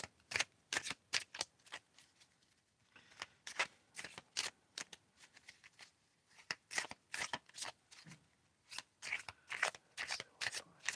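Playing cards shuffled again and again for solitaire in a quiet close-up ASMR setting, crisp riffling bursts in quick clusters separated by short pauses, with no talking.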